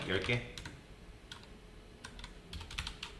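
Code is typed on a computer keyboard in scattered bursts of crisp, close key clicks with short pauses between them, fairly quiet overall.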